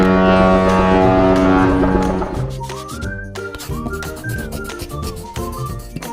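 A deep boat horn blasts loudly for about two seconds, then fades into a melodic tune of whistle-like tones, with no talking.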